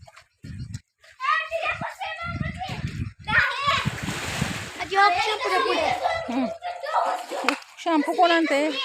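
Children splashing and swimming in a village well, bursts of water slaps and splatter mixed with kids' voices and an adult calling out, echoing close by.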